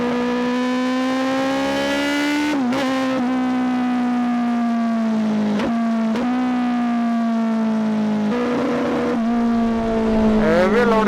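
A Kawasaki ZX10R superbike with a stage 2 build revs hard and loud, its high whining engine note holding, dipping briefly and climbing again with each throttle blip, close up and without talk.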